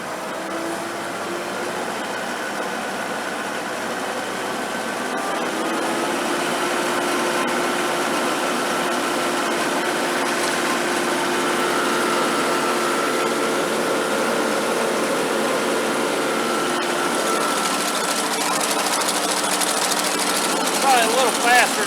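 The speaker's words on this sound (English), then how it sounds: "That is running really smooth. The noisiest thing is the PTO guard." A PTO-driven sickle mower runs smoothly, a steady mechanical hum and clatter that rises in speed partway through, close and continuous.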